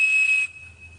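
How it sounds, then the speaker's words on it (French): A Captain Crunch toy whistle sounds a piercing, pure 2600 Hz tone, loud and close, blown for about half a second before cutting off, leaving the pitch faintly ringing over quiet background. "Cet objet, c'est un sifflet Captain Crunch."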